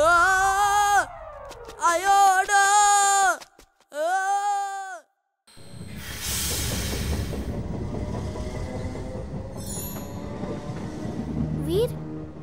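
A cartoon train passes as a steady rumbling clatter that builds and holds for several seconds, following a run of wavering, bleat-like tonal cries.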